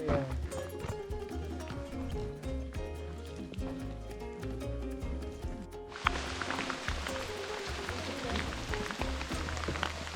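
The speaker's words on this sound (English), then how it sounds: "Oh, we got stuck in the rain." Steady rain hisses down on Kilimanjaro, a soft wash that swells in suddenly halfway through over a faint tonal background.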